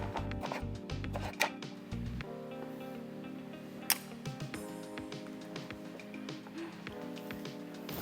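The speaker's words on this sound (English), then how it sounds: "I am just going to cut up some lemon" A knife cuts up a lemon with a few soft, irregular chopping taps and scrapes on a board. The sounds are fairly close and modest in level, with faint kitchen background.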